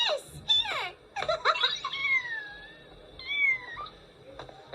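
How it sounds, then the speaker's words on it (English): An abandoned cat meowing in an anime, heard in a reaction recording: several high, drawn-out meows with rising and falling pitch, close and clear, mixed with bursts of laughter. "An abandoned cat."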